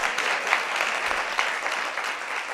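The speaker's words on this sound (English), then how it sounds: "A round of applause for that." Brief burst of audience clapping at a debate on genetically modified foods, a dense, fairly steady patter of many hands lasting a couple of seconds.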